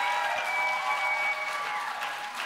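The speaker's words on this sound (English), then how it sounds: "keep that applause going" Steady applause from a poetry slam audience fills the room, a dense continuous wash of clapping that holds at an even level throughout, with some faint tonal ringing underneath and no voices.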